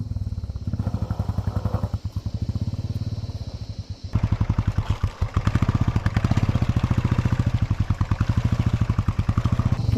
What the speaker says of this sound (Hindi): बाइक जो है चढ़ ही नहीं रही है आगे को